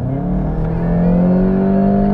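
A VW MK7 GTI fitted with an Invidia Q300 exhaust revs loudly and close up, its steady droning note climbing gradually in pitch, with no voices.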